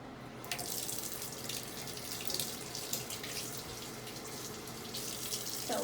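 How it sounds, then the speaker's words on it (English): Water runs steadily from a tap into a sink while a cat is being readied for a sulfur lime dip bath, a constant close splashing rush with no pause. "So let's get the water running at a good temperature."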